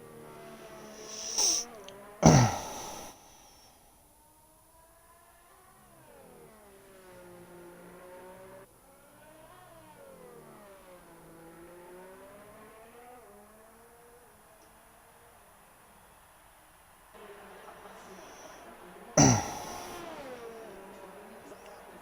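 Race cars in a racing video game drone steadily, engine pitch rising and falling through gear changes and corners, with a couple of sharper loud bursts near the start and end and no talking.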